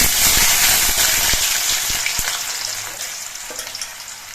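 Cut potatoes tumble into hot oil with fried whole garam masala, setting off a loud crackling sizzle with scraping stirs that gradually settles into a softer, steady fry.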